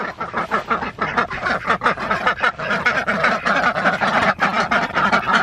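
A flock of ducks quacks loudly and continuously just before winter feeding, overlapping rapid calls close by with honking tones mixed in and no speech.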